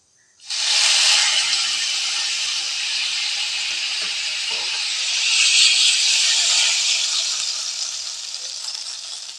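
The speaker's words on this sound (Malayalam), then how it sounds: "എനിക്കിങ്ങനെ വറവിടുമ്പോഴേ ആ ഒരു ശീ ശബ്ദം വന്നാലേ എനിക്കൊരു സാറ്റിസ്ഫാക്ഷൻ വരുള്ളൂ" Hot tempering is poured into pazham pulissery, a ripe banana curry, setting off a sudden loud hissing sizzle. It stays strong and steady for several seconds, then slowly fades.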